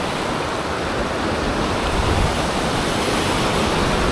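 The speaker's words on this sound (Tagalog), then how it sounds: "Isang malakas na ilog papunta dito sa dagat" Loud, continuous rushing water, a strong river pouring toward the sea, a dense steady roar with no voices.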